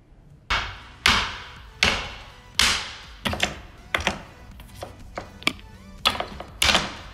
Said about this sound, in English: what happens when you have a nail, but you don't have a hammer, and all you have is a doorknob?